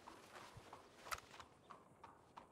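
Horse hooves clip-clop in an uneven walking rhythm near a horse-drawn cart in the Red Dead Redemption video game, soft and fairly close, with a sharper knock midway.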